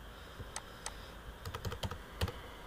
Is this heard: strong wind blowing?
no